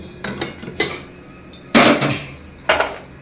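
A metal pot is set down on a home kitchen stove for cooking rice, giving a series of sharp clanks and clatters spaced unevenly, with the loudest knock near the middle and another near the end.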